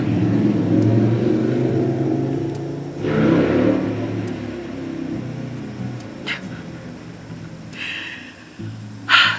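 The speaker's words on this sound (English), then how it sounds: "There's somebody on a motorcycle outside." A motorcycle passes outside, a broad engine rumble rising and fading behind an indoor room, muffled and fairly distant, with a few brief sharper noises near the end.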